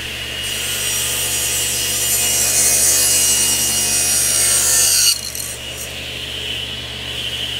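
A table saw cuts a bevel along the edge of a tapered wooden planter stave held in a cutting jig. The whine and rasp of the blade are loud and steady for about five seconds, then ease off as the cut ends.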